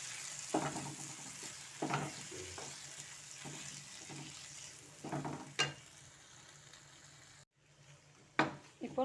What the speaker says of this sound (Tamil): இதை நல்லா கலக்கிக்கலாம்